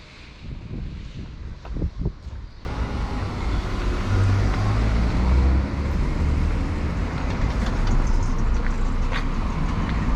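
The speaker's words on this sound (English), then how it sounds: "A bit of a traffic jam. There is a bit of traffic, isn't there?" Village street traffic in Ferrel on Portugal's Silver Coast, with cars passing close by as a steady roar that builds after a quieter start, mixed with wind buffeting the microphone.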